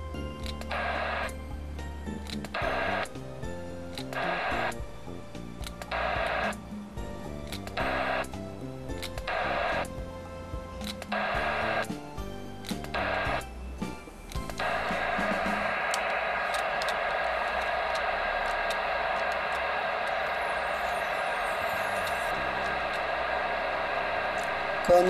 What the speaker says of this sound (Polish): Wyłączę blokadę szumów.